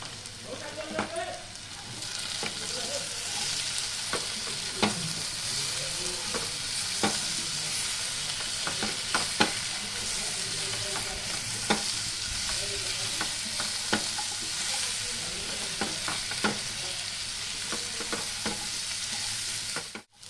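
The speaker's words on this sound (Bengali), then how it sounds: "আলুটা বন্ধুরা ভালো করে ভাজা হয়ে গেছে" Potato pieces fry in a pan with a steady sizzle and frequent scrapes of a spatula stirring them, sounding close and continuous with no talking.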